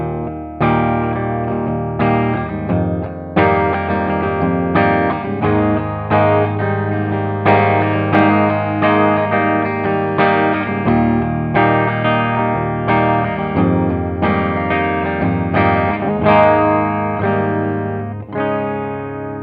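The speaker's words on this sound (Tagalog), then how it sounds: "So, ito yung tunog ng gitara ko na nasa bridge pickup tapos naka-clean setting." A 1997 Fernandes JG-65s sustainer Jazzmaster-style electric guitar plays on its bridge pickup with a clean setting, ringing chords and notes strummed in a loose repeating rhythm, loud and close, with nobody talking.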